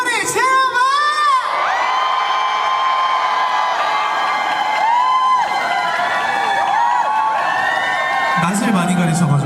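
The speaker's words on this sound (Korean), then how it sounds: "다 같이 소리 질러봐!" A festival crowd at a dried persimmon festival in Haman shouts and cheers loudly, many overlapping high voices including children's whooping and yelling in a sustained roar, close and continuous throughout.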